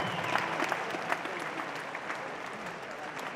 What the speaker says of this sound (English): can we please have a round of applause for these two warriors?